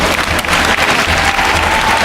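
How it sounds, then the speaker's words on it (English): An audience at a motivational talk breaks into steady, dense clapping that carries evenly through the whole stretch without talk over it. "somebody ought to clap on that"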